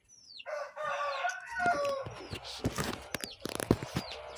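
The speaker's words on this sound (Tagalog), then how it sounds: "Yung mga manok namin." A rooster crows loudly up close, followed by chickens clucking and squawking in a busy flurry.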